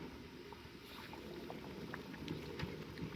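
Pint jars of homemade pasta sauce are lowered into a water bath canner at a rolling boil, with soft, faint bubbling and light clinks over a low, steady simmer.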